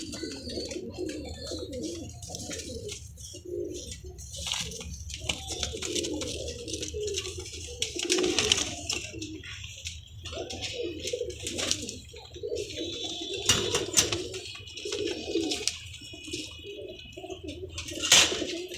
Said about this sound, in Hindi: आप भाइयों की वजह से दोस्तों अच्छे कबूतर दिखाने पड़ते हैं।